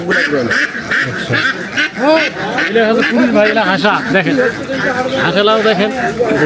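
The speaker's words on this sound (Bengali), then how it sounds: "এগুলো হাঁসা" Ducks for sale at a village market quack in raspy, overlapping bursts close by, heard under loud, steady bargaining voices.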